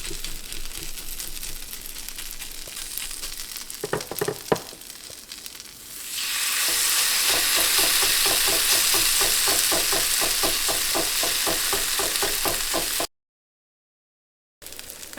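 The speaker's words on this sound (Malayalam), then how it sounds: "ഞാനിപ്പോൾ ഇവിടെ ചെറുതായിട്ടുള്ള ദോശയാണ് ഉണ്ടാക്കുന്നത്." Small potato pancakes frying in a hot pan, starting with quieter scraping and taps, then a loud, steady, bright sizzle that continues unbroken, then a brief silence near the end.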